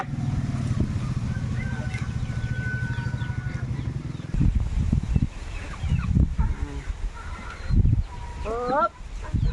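Chickens cluck and squabble close by in a rural yard, fussing over scraps from fish being cleaned. Sharp bursts of clucking and agitated calls rise and fall throughout, with a steady low rumble beneath.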